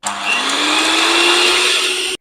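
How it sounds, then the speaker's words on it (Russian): An electric mixer whips cold cream in a steady high whine, loud and close, running continuously for about two seconds before cutting off, with no talk. "Взбиваем до такого состояния, чтобы они загустели."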